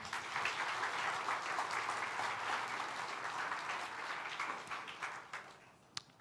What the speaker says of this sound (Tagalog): Yung palakpak na para sa Panginoon.